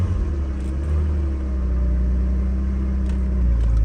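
A BMW E46 with a six-speed manual idles in a steady, close, low rumble that wavers slightly as it begins running short of fuel.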